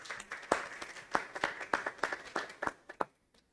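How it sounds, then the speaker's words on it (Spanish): Audience at a book presentation for La Cowboy Rulfo welcomes a guest with a short burst of hand clapping, distinct claps fairly close and steady for about three seconds before stopping abruptly. "Por favor, recibamos a Óscar con un fuerte aplauso"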